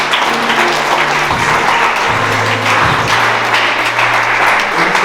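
Guests at a Congolese wedding ceremony applauding in a loud, dense, sustained burst of clapping that fills the room, with a low hum running underneath.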